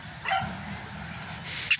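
A dog barks and yips near a household doorway, with a short burst early and two sharp, loud barks at the end, while someone talks over the middle.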